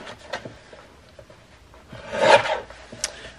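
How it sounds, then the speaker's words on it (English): Paper for a handmade tag journal is folded with soft rubbing and creasing scrapes, building to a brief louder crease swipe near the end, close and quiet with no talk. "I'm gonna fold it right there and I'll trim that part off"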